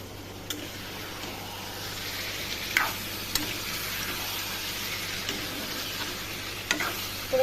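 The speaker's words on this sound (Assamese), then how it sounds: "এতিয়া আমি এই চিকেনটো দি দিওঁ।" Chicken pieces marinated in salt and turmeric sizzle and fry steadily in a pan, a continuous close crackle with a few sharp ticks of stirring and no talking.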